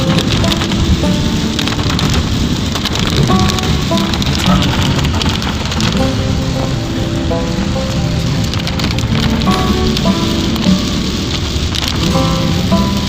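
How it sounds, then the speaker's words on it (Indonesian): Heavy morning rain pelts down steadily during a drive on a slick road toward Palopo, a dense continuous hiss with low rumbling underneath and no talk. "Hujan pagi ini di jalan nggak termasuk kosong"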